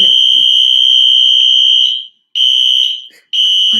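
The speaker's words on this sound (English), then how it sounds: "apartment alarm goes off" An apartment alarm blares a loud, piercing electronic tone, holding steady for about two seconds, then cutting out and restarting in shorter bursts, with a brief voice heard faintly at the start.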